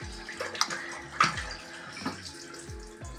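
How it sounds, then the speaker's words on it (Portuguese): Tap water runs steadily into a sink during handwashing, a close broadband hiss with a few brief clinks and splashes over the flow. "Agora eu vou lavar minha mão."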